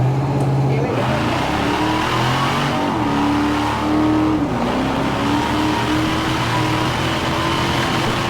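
A turbocharged GMC Syclone pickup truck accelerates hard, its engine note climbing steadily in pitch through the gears, loud and close inside the cab, with a faint voice occasionally over the roar.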